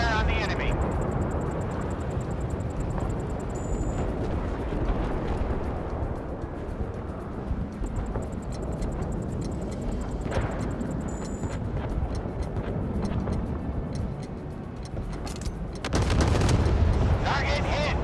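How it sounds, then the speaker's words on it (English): Naval guns firing at an enemy in a warship combat game: dense rumbling battle noise with repeated booms and crackling impacts, ending in a louder blast, under intermittent game voice announcements. "Ready to open fire on the enemy."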